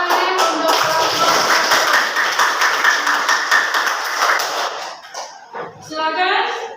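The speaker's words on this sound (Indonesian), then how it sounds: "tepuk tangan untuk kelompok" Students in a classroom clap for a group that has just finished presenting, a dense burst of hand claps that fades out with voices heard near the end.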